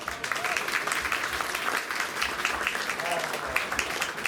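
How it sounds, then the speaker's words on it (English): Crowd applause for the young exhibitors at a youth sheep show at the Lycoming County Fair, a steady spread-out clapping from spectators filling the arena, moderately distant with a faint voice over it. "Let's go and give all these kids a round of applause."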